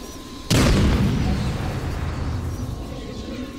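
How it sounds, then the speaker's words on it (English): A grenade goes off in the Batman: Arkham City video game, one sudden loud, close blast followed by a long rumbling decay that fades over a few seconds. "Grenade!"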